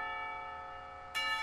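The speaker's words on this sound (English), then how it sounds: "bells ring, signalling the end of the period" A school clock tower bell rings in the visual novel Katawa Shoujo, a sustained resonant tone fading before a second bright strike lands, clear and fairly quiet with no voices.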